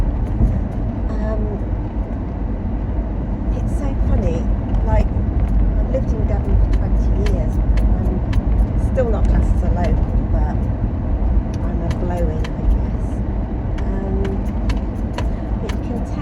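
Steady low road rumble and engine drone fill the interior of a moving car, continuous and even throughout, with faint clicks and rattles in the cabin and a voice talking over it.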